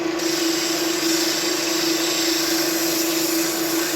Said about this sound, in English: I'm basically just kind of doing my final shaping with the sandpaper. This here is 40 grit.